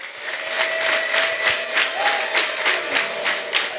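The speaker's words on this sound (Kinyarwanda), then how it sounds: "Mukomere Imana amashyi" A church congregation claps rhythmically in praise of God, loud regular claps in a steady beat with crowd voices and a faint sustained tone beneath.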